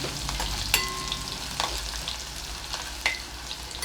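Curry leaves and a little garlic dropped into hot oil for tempering, crackling and sizzling steadily at close range with a few sharp pops and light stirring.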